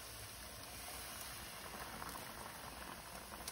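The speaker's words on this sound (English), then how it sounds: "So we have the chicken and the bell pepper cooking in here." Chicken and bell pepper simmer in sauce in a pan, giving a steady, close bubbling sizzle with no pauses and no talk.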